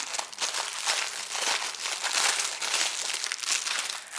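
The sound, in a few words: plastic packaging crinkling as a bag is opened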